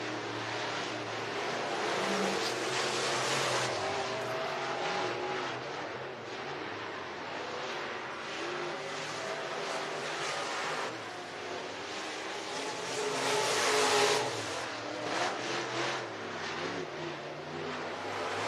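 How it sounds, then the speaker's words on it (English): Crate Racing USA modified race cars qualifying at Talladega Short Track in Talladega, Alabama: a steady roar of engines carries across the track, swelling as a car passes around the thirteen-second mark, with no talk over it. "Qualifying continues for the Crate Racing USA Modifieds."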